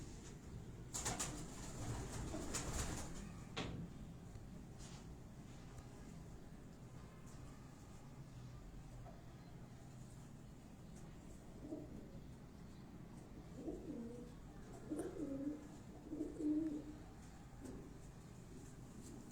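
Pigeons make soft, low cooing calls, faint and somewhat distant, mostly toward the end, over a quiet background with a few light rustles and bumps.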